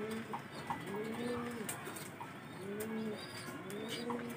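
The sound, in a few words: pigeons cooing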